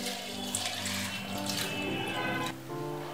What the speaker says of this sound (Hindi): और इसमें पोहा से ऊपर पानी डालेंगे